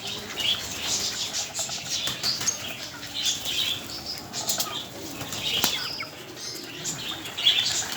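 A flock of pigeons gathering to eat grain, many wings flapping and fluttering in repeated bursts, with faint chirps, close and fairly quiet outdoors.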